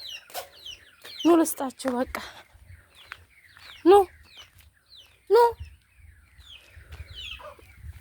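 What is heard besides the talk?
chickens clucking while being fed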